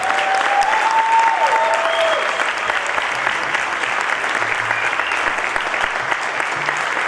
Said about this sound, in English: So you're going to have to help me give him a huge round of applause to Hector Ayala.